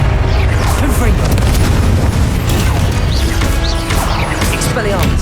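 Confringo blasting-curse explosions in Hogwarts Legacy: dense, loud booms and crashes pile up continuously, with clattering impacts and magical whooshes throughout.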